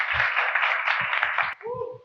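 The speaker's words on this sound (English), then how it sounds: "Maybe we can give him a small round of applause." A small audience at a Le Wagon data science coding bootcamp demo day in Tokyo claps briefly for Doug, who is recovering from an injury. The dense clapping lasts about a second and a half, then a voice speaks.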